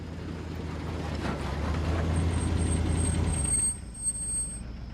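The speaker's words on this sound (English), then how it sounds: "Just then, a truck arrives." A truck arrives with a loud, rumbling engine that builds and then cuts off, followed by a brief hiss like an air brake, with no voices.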